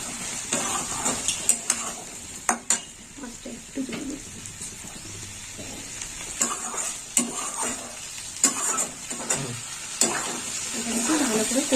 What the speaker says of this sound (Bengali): এবার লঙ্কার হলুদ দিয়ে আমি কষে নেব এরকম ধিমে আছে কষতে হবে